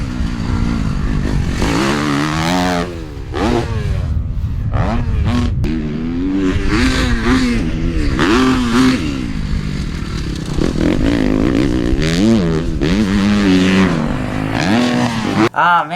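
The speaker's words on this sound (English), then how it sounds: "Today I'm fortunate riding with Zach out here at Husky" Supercross motorcycles on a Husqvarna practice track, their engines revving hard and repeatedly rising and falling in pitch as they accelerate and shift, loud and close for the whole stretch.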